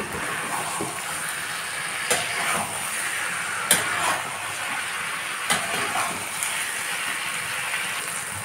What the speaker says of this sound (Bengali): দিয়ে ভালো করে একসঙ্গে কষে নেব।